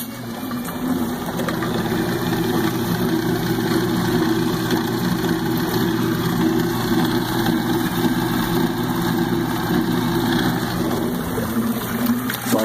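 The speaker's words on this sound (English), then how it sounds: "The only thing that powers it is a half horsepower motor that I installed underneath." A 1940 Maytag washing machine runs on a half horsepower motor mounted underneath, driving the agitator with a steady, loud mechanical hum and churning water, continuous and close throughout.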